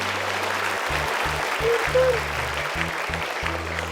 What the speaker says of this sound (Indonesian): Tepuk tangan lebih meriah lagi untuk Rais.